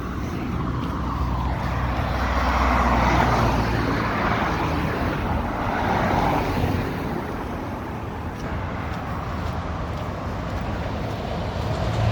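A big truck rumbles past on a road in Nottingham toward Sneinton. Its loud, low roar swells and fades over a steady wash of other traffic.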